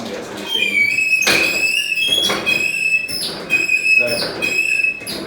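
A hand-cranked honey extractor spinning its basket, giving repeated squeaky, whistling mechanical whines in time with the turning handle, with clunks and a voice speaking over it.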